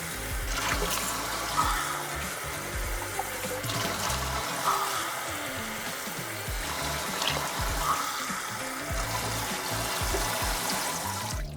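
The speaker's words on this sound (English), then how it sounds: "Add 3 cups of water." Water poured into a rice cooker pot for fried rice, a steady splashing stream running continuously at close range with no talk.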